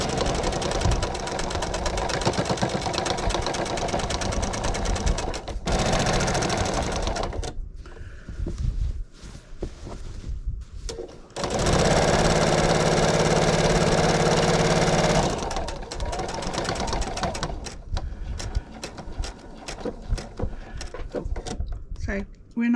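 A sewing machine stitches pillowcase fabric in steady mechanical runs that stop and start, close and fairly loud, with a person talking over parts of it.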